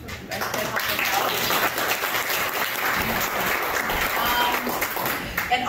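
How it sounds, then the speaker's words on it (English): Audience applause at an evening tourism event for a mural reveal, a steady dense clapping from a crowd lasting throughout, fairly close and loud with some cheering voices mixed in. "but we can give him a round of applause."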